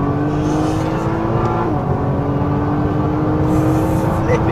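Nissan GT-R Nismo accelerating hard with transmission and engine in race mode, a loud close engine roar climbing steadily in pitch with a brief shift midway, continuous and alone.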